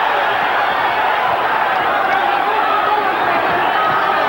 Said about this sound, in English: The crowd understandably enjoying it